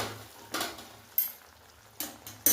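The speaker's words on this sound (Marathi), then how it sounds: "तर मी हे सगळं दूध आता ॲड करते." Milk poured into hot roasted semolina for Maharashtrian prasad sheera, bursts of loud sizzling and spattering in short waves, with a pan scraping and utensil clinks close by.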